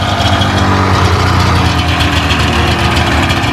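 A Polaris Indy snowmobile engine idles steadily at close range, a continuous low rumble with a slightly uneven putter and no voices.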